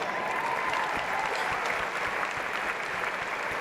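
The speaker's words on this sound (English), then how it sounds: "Give yourself a round of applause." A university event audience applauds steadily, a continuous wash of many hands clapping at moderate distance, fairly even in loudness for the whole stretch with no talking over it.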